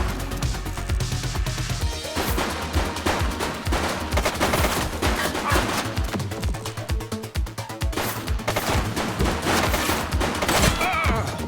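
Sustained bursts of gunfire from a shooting suspect during a street police action in The Precinct, set in Averno City, with dense rapid shots and rattling volleys filling the scene at steady loud level.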